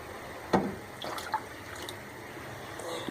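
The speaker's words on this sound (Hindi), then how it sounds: "हम इसके अंदर अभी थोड़ा सा पानी और शामिल कर रहे हैं।" Water poured into a pot of chicken yakhni soup, a soft steady splashing trickle with a few brief louder splashes, close and fairly quiet.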